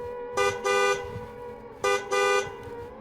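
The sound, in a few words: car horn honking several times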